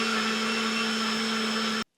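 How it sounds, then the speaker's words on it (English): A blender whirs at full power through a mix of oats, protein powder and water, a loud steady motor drone with a constant whine, then cuts off abruptly, leaving a brief quiet and a small click. "Just put a bit of water in, slam it into the blender."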